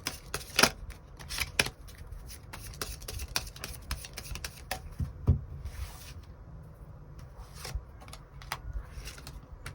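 Tarot cards are shuffled and drawn close by, with crisp riffling flutters and slaps at the start, then softer sliding and tapping of cards through the rest, with no talking.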